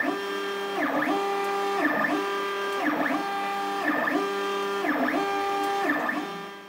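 A 3D printer prints parts for a xenomorph cosplay tail, close by. Its stepper motors whine in steady tones that shift in a repeating pattern about once a second, with no talk.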